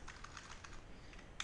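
Quick, light keystrokes on a computer keyboard while entering PHP code, close and soft, in a short run of taps ending with a slightly louder key press.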